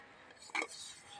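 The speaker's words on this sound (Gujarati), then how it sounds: "વાસણનું કામકાજ ચાલુ છે" Dishes, pots and utensils being washed at home, with one short clattering clink of metal against metal and a quieter rattle after it, faint and under soft talk.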